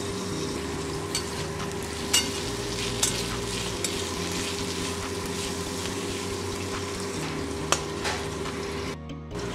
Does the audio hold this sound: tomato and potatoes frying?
yes